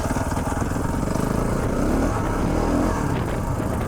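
A KTM 690 Enduro single-cylinder dual-sport motorcycle climbs a rocky mountain trail at about 6,400 feet, its engine droning steadily and loudly with a throbbing pulse and slight rises in pitch throughout.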